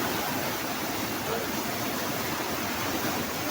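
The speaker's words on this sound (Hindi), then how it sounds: "नदी का पानी तो आ रहा है" The flooded Ghaghar river after heavy rain, a steady, dense roar of rushing water filling the whole stretch at constant loudness.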